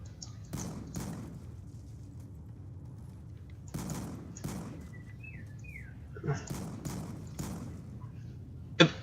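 Shotgun blasts from an S12 in Black Ops 2 Zombies on Nuketown: about seven loud, sharp shots at irregular intervals, with brief chirpy game sound effects between them.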